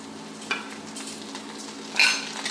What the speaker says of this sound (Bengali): আদা বাটা দিয়ে একটু নেড়ে চেড়ে নেব।